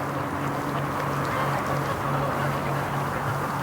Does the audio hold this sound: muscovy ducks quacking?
yes